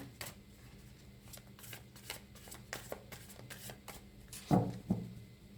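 A deck of cards is shuffled for a card reading, with a run of soft, repeated riffling flicks, close up, ending in a couple of louder taps as the cards are squared.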